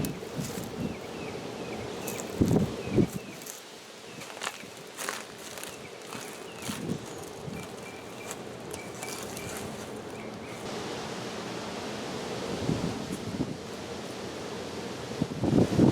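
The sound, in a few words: strong wind blowing outdoors in the garden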